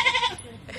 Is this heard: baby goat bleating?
yes